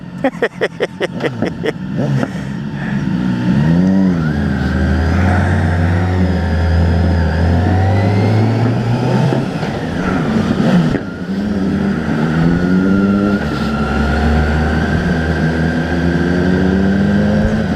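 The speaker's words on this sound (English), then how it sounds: "My brothers like the sound of their own exhaust pipes." Loud BMW K1600GTL and S1000XR motorcycle engines rev nearby, opening with a rapid stutter of exhaust pops, then a sustained roar whose pitch climbs and falls repeatedly.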